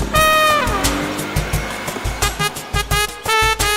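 A car arrives on the road with a loud engine, followed by a run of repeated short honks and tonal horn-like blasts in a choppy rhythm that ends in a final long tone.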